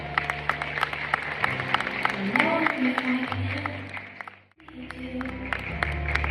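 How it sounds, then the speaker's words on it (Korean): Wedding guests clap in steady applause to welcome the groom as he enters the hall, a crowd of hands filling the room while a master of ceremonies talks over it and music plays beneath. "여러분들의 환영의 박수가 필요한 순간입니다."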